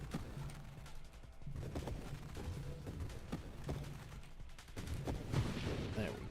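Grenade explosions in the space shooter Nova Drift, from a salvo-style grenade build: rapid bursts of booms and crackling blasts in uneven clusters, fairly dense and fast, with low thumps under the sharper pops.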